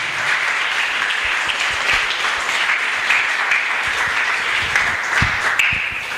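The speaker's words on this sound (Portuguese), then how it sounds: "Dê uma linda salva de palmas" A church congregation claps in a long, even round of applause, a dense hiss of many hands with a few sharper nearby claps, moderately loud and without talk.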